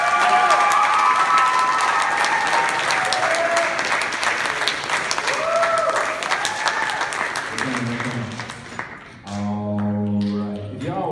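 Audience applause and cheering for performers on stage at a concert, loud and sustained at first, thinning out toward the end as music or tones take over, with voices mixed in.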